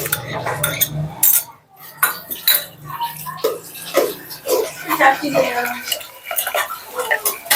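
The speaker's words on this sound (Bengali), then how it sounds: "সাগু সিদ্ধ করে রাখছিলাম দিয়ে দিচ্ছি সাগুগুলা দিয়ে দিচ্ছি" Boiled sago spooned into milk in a bowl, with clinking spoon and dish knocks, soft wet stirring and scraping in uneven bursts close by, and someone talking over it.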